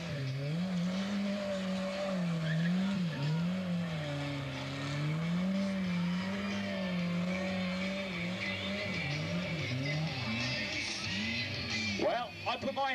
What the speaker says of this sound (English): And on the skids, that's exactly what we mean